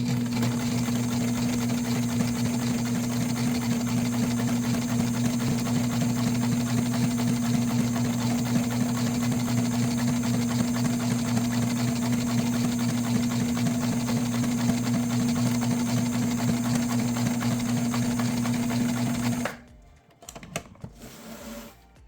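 A sewing machine stitches a marine vinyl boat window, its motor running in a loud, steady, continuous whir for about twenty seconds before stopping abruptly, followed by a few faint handling clatters.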